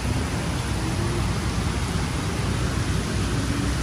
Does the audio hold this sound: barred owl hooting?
no